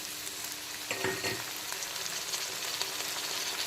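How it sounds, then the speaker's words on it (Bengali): Chopped onion and green chili fry in a pan, a continuous bright sizzle close up with a stirring scrape and swell about a second in, then steady crackling hiss. "কাঁচা লঙ্কা আর পেঁয়াজ কুচিটা আমি ভেজে নিয়েছি এখন খুব সুন্দর একটা স্মেল বেরোচ্ছে ভাজা পেঁয়াজ আর লঙ্কা"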